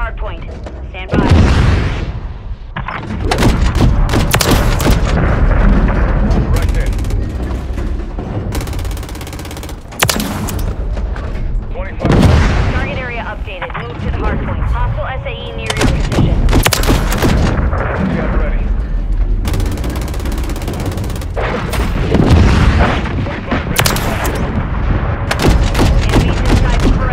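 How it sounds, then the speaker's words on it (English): Missile launches and explosions in a Call of Duty game, with loud, dense bursts of artillery-like gunfire and booms continuing throughout, alongside in-game radio chatter. "Missile loaded, clear to fire."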